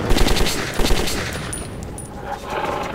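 Machine-gun fire in the video game Metro 2033: a loud, rapid rattling burst opens, then trails off into quieter scattered shots and faint ringing, with no talk.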